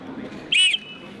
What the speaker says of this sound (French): un couteau qui fait un sifflet en même temps